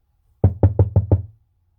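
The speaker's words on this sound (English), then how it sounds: "He knocked again," Five quick, evenly spaced knocks on a door sound close and distinct against a quiet background, a spooky-story sound effect.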